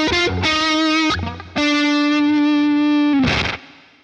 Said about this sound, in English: I'm used to hearing more distortion when I play this riff.